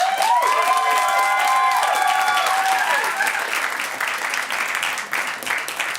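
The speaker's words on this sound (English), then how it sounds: "Can everyone give a big round of applause for Josh?" Loud applause and cheering rise from an audience at a student election question-time night, with a few high whistle-like tones over the opening seconds before steady clapping carries on.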